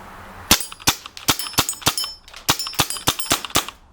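A Gamo MP9 blowback CO2 airgun fires in rapid succession during an outdoor field test: about a dozen sharp, loud, close cracks, each with a bright metallic ring, in uneven quick bursts with no talking.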